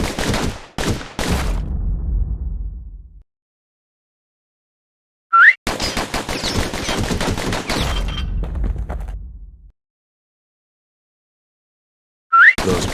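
Rapid pistol fire in the action game Bastion comes in loud, dense bursts of quick shots that stop abruptly and leave stretches of silence, with a short whooshing chime before each new volley.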